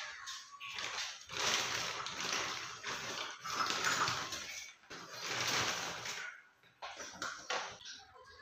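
A traditional khan blouse-piece cloth being washed in water during Makar Sankranti puja preparations at home, with repeated sloshing and splashing bursts that rise and fall in waves, close and fairly loud, with no talking.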